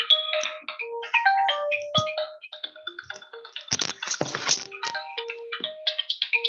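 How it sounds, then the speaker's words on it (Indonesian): A phone ringtone plays a bright, melodic electronic pattern of repeating tones, loud and close, running alone through the whole stretch with no talking. "Sorry, ada telepon."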